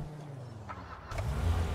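A car engine in GTA RP cranks and catches, turning over briefly and then settling into a low, steady idle, fairly faint and close.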